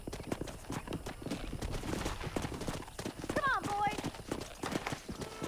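In the video game Red Dead Redemption, horse hooves gallop in a fast, steady clip-clop throughout, with a brief whinny partway through and a voice shouting over the hoofbeats.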